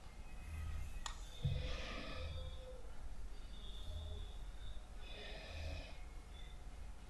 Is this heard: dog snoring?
yes